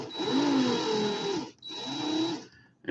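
A power drill runs in reverse to untwist fused clapton coil wire, whining steadily at close range in two runs with a short stop between them. No voices.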